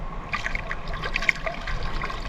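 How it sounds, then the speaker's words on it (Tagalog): Strong waves and moving water at a fishing spot in the Philippines, heard as a steady, fairly soft wash of churning water with small splashes and trickles, no voices. "Lakas ng alon"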